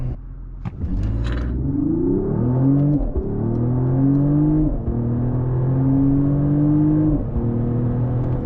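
A 2025 Mercedes GLE 53 AMG hybrid coupe launches hard from a quick start, its engine revving up through several gear shifts in a loud, steady series of rising pulls with no one talking.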